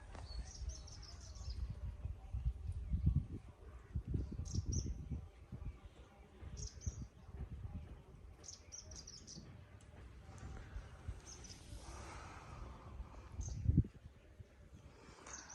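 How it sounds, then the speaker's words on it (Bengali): Scattered birds chirp in quiet hilltop surroundings, their short high calls coming faint and at a distance over a low hushed background, with a few soft rustles and no talking. "দেখছেন তো পাখির কিচির মিচির শোনা যাচ্ছে"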